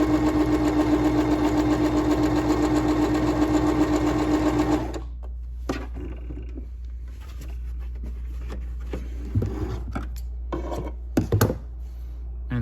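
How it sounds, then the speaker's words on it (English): A starter sewing machine, priced under $200, stitches a zigzag in a fast, loud, steady whir for about five seconds, then stops, leaving quiet handling noises and small clicks. "Let's go ahead and change it to a zigzag stitch and we'll see how well that works."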